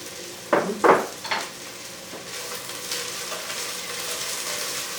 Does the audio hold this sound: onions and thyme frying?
yes